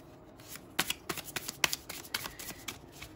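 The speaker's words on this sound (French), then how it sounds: "On va tirer 4 cartes." Tarot cards are shuffled and drawn by hand in a quiet room, giving a run of crisp riffling snaps and slaps in irregular bursts, close and fairly soft, with no talking.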